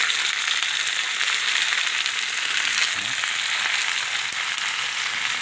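Garlic, onion and tomato sauté in a pan with a steady, loud sizzle that holds evenly throughout, with no talking over it.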